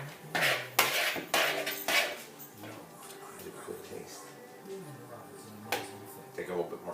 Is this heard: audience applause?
no